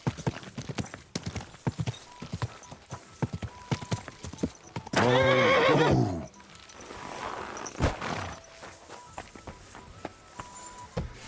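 Horse hooves clip-clopping in steady rhythm in the video game Kingdom Come: Deliverance, with a loud horse neigh midway, then continued hoofbeats amid ambient game sounds.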